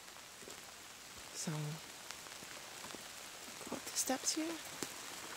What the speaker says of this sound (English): And it's been so rainy, we got this tarp up here